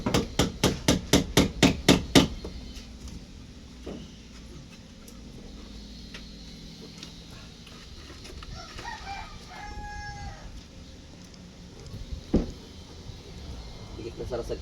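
Hammer blows on a roofing project ring out in a rapid run of about eight sharp, loud strikes. Then a quieter stretch follows with roosters crowing nearby, scattered knocks and people talking.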